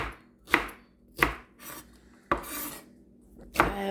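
A knife cuts celery stalks into quarters on a cutting board, making about five sharp, separate chops spaced irregularly, close and crisp in a quiet room with no talk.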